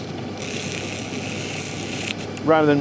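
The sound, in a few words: screwdriver scraping carbon off Kawasaki Z1 valve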